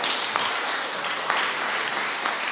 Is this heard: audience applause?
yes